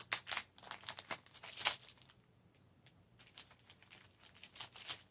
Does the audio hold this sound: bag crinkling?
yes